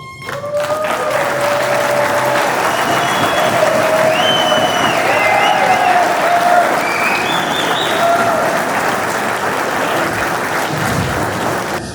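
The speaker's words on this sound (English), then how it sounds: "please stand up so we can applaud you" A crowd at a political campaign event applauds auto workers with sustained, dense clapping that stays loud throughout, with some whistles and cheers mixed in.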